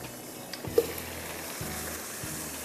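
Masala spices frying in a pan for a dhaba-style vegetable karahi, giving a steady, soft sizzle with a couple of faint stirring scrapes.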